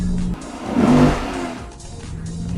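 Lexus RC F sports coupe engine revving hard in Sports Plus mode, a loud close surge that swells and then falls back to a rumbling idle.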